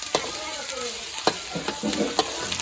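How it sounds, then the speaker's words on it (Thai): Pounded garlic stir-fried in hot oil for a Thai canned-fish chili paste dish, giving a steady close sizzle broken by repeated scraping stirs of the utensil against the pan. "ผัดหอมกระเทียมที่เรา ตำนะครับหรือว่าโขลกเนี่ย ผัดขั่วกับน้ำมันให้มันหอมก่อน"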